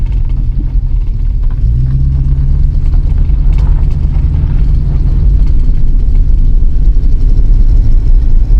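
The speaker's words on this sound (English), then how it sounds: "You're literally looking at the very first drive of this car." A 1967 AMC Ambassador barn find pulls away on its first drive in 14 years, its engine a loud, steady low rumble heard close up without talk.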